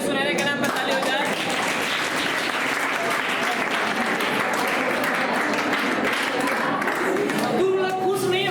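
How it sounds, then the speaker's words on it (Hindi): An audience applauds at a ceremony celebrating 10th-grade exam results. The dense, steady clapping is loud and sustained for about seven seconds before a voice comes back in at the end. "चलिए सुनहरे के नाम पर ताली हो जाए।"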